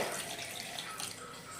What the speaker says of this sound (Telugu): 1 glass వాటర్ యాడ్ చేసుకోవాలి.